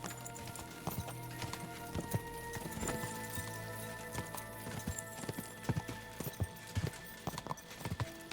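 Hoofbeats from a horse in Kingdom Come Deliverance 2, a steady clip-clop of hooves striking the ground at a trot, close and fairly loud, with an occasional brief snort over a quiet ambient game background.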